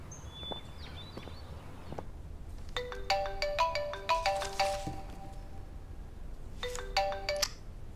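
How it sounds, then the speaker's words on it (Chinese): A phone ringtone signals an incoming call, playing a bright melodic pattern in two bursts, a longer one followed by a shorter one after a pause, against quiet indoor room tone with no talking. "琳达，你给我打电话干什么"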